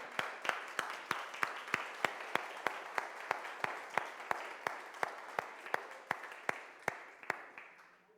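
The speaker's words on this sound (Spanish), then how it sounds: "Yo creo que se merece un aplauso nuestro Dios por..." A church congregation gives slow, evenly spaced rhythmic claps in unison, about two to three per second, steady and fairly faint throughout with no talk.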